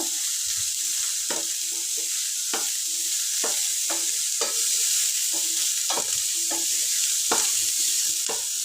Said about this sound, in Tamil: இதை ஒரு ரெண்டு நிமிஷம் போல் நல்லா வதக்கிக்கோங்க